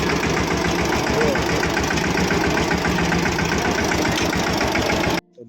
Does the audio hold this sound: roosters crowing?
no